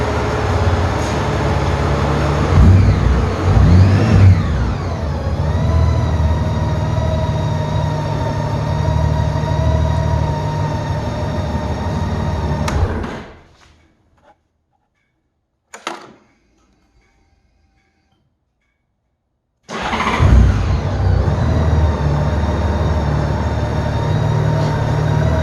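A 2010 Honda Goldwing motorcycle engine runs steadily at close range, with a smooth continuous drone, then cuts out into near silence for several seconds before the engine sound returns just as strongly.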